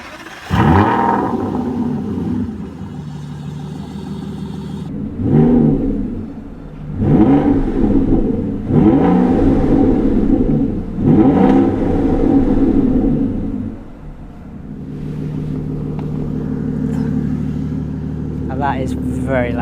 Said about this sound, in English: You rev it and the whole car shakes.